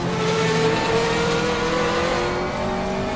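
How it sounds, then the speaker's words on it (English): A GT3 race car in the Assetto Corsa racing game drones loud and close with a sustained engine note that shifts slightly in pitch, with no talking over it. "That car has insane sounds. It's not very quick though, despite actually being a GT3 car."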